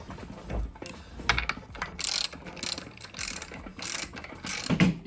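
Fixings are screwed into the bases of wooden fence posts, two per post base, producing repeated ratcheting clicks and short mechanical whirring bursts, close and irregular, with no talk.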